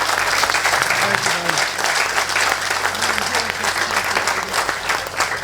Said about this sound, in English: Round of applause for Bill, everyone.